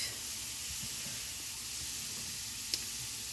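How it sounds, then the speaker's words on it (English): Diced eggplant sizzles steadily in hot avocado oil in a pan, a faint, even hiss with no talking and one brief click near the end. "Then I will put these diced eggplants into it"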